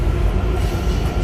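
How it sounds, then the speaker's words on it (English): A metro train rumbles past nearby outdoors on a Friday evening, a steady loud low roar with no distinct clicks, no talking. "There goes the metro."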